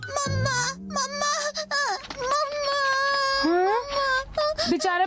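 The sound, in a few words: baby crying in a cartoon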